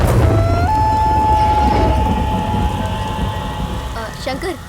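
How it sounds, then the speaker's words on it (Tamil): Steady heavy rain pours with a deep rumble of thunder beneath it, a loud close wash that tapers slightly toward the end. "மழை நிற்கிற மாதிரி இருக்கு"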